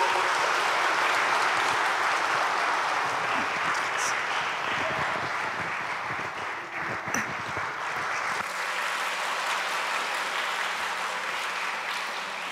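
Steady, dense applause from a church congregation for the organ accompanist during a Sunday worship service, sustained evenly for several seconds with no talking over it.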